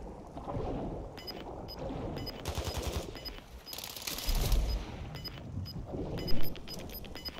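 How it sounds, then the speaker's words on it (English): Gunfire underwater in a first-person shooter video game, bursts of rapid muffled shots in short volleys over a low watery rumble, moderately close and without talk. "that's the only gun you can shoot underwater"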